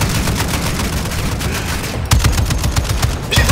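Modern Warfare 2 game gunfire, dense automatic bursts that rattle continuously in a rapid stream, loud and close, with heavier thumping volleys toward the end.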